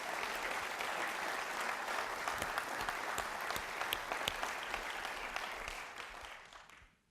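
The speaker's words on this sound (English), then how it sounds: "Can we give him a round of applause" Sustained audience applause at a State of the City address, a thick, steady roar of many hands with sharp individual claps, tapering off and ending abruptly.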